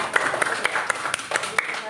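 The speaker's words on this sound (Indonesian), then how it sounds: "Oke, tepuk tangan berdua." Sharp, separate hand claps in a fairly steady rhythm, about eight of them, sound close by during a children's Islamic lesson, with a voice talking faintly underneath.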